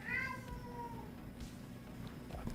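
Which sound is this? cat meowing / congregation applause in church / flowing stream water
cat meowing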